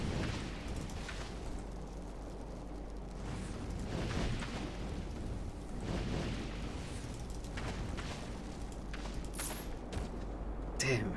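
Mortar shells explode in a video game, a series of muffled booms and rumbling bursts over a low, continuous background, fairly faint overall.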